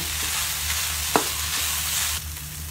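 Beef and carrots sizzle steadily in a pan for spaghetti sauce while a spoon stirs them, with a sharp scrape partway through, close and continuous.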